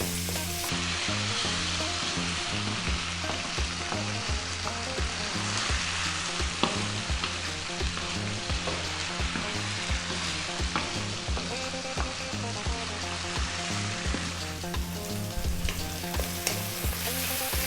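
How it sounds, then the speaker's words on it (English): Cubed chicken breast fries over high heat in a pan, giving a loud, continuous sizzle, with stirring scrapes throughout and no voices. "In goes our chicken breast."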